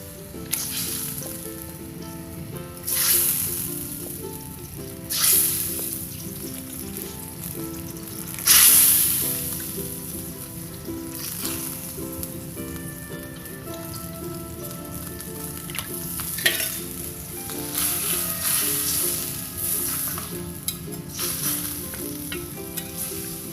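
Snapper for gulai goes into a hot pan already holding tamarind, sugar and seasoning, giving a steady sizzle of frying with several louder hissing bursts.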